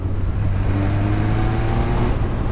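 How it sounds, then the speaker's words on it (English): Kawasaki Ninja H2 motorcycle engine running loud and close with a steady low drone and faint higher whine, the supercharger flutter not clearly separable. "Apparently that fluttering noise is the blades of the supercharger"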